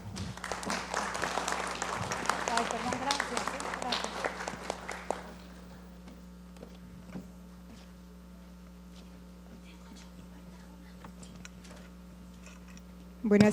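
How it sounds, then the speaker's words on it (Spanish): Audience applause at a panel discussion, a few seconds of moderate clapping that thins out to faint scattered claps over a constant electrical hum, then near silence before a sudden loud bump at the end. "Brindemos un fuerte aplauso."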